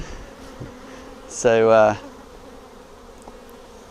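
Honey bees buzz around a Flow hive frame, a short, close burst of insect buzzing rising briefly over a low steady hum, with a single spoken word beforehand.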